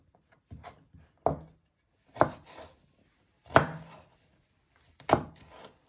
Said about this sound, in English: you just want to slice them into little pieces